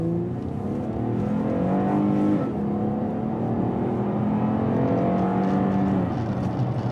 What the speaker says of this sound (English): We're going to take a look at what this thing has for acceleration.